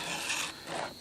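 Hand file rasping across a Stihl chainsaw chain tooth, two quick close gritty strokes filling the short clip.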